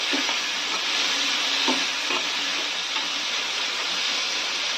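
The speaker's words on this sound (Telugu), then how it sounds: "ఇది మొత్తం పచ్చివాసన పోయేంత వరకు బాగా ఉడికించుకోవాలండి నూనెలో" Okra masala with tomatoes fries and sizzles steadily in hot oil, a dense continuous hiss with a few soft stirring scrapes, close and loud throughout.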